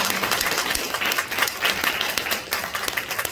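A church congregation applauds the pastor with steady, dense clapping from many hands filling the room, sustained throughout with no voices.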